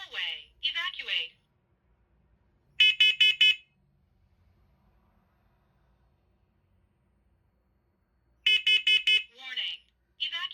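A hallway smoke and carbon monoxide alarm under test sounds two loud bursts of rapid electronic beeps several seconds apart. An automated voice speaks short announcements before and after the bursts.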